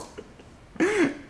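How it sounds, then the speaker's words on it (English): A person gags and clears their throat during a script read, faint small sounds giving way to a short, loud, harsh guttural burst near the end. "Are you clearing your throat? You're gagging. I'm gagging."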